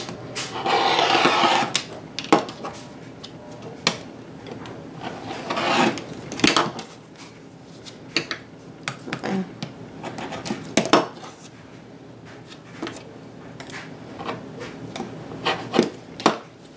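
A blade repeatedly slicing through fabric strips on a cutting surface, a series of sharp rasping swipes and taps, some louder and some softer, with quiet pauses between them.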